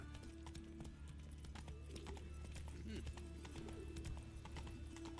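Roach, a horse in The Witcher 3, galloping with a steady rapid clip-clop of hooves, close and continuous over a low game ambience.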